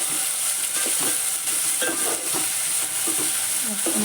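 Tomatoes, onion and chillies fry in a pan with a steady close sizzle and occasional scraping stirs, with no talking.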